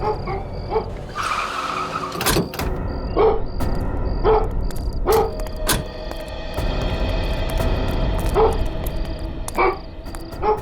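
A dog being led toward a parked van barks in several sharp, separate yelps across a busy scene, mixed with tire-skid and vehicle noises, with no talking.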